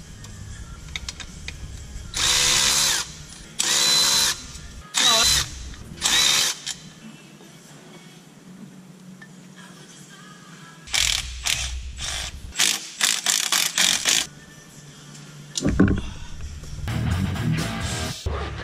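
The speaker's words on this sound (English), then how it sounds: "We need to get some rust off first of all onto the bolts to get the manifold loose" A power tool whirs in loud, repeated bursts of a few seconds each, separated by pauses, as it strips rust from the exhaust manifold bolts on a 105 Series Toyota Landcruiser during a turbo fit-up.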